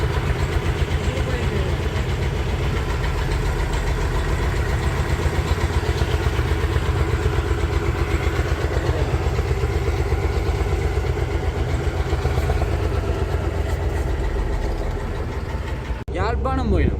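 A boat engine runs with a steady, throbbing motor drone for the whole stretch, heard close and loud during a boat trip in Sri Lanka.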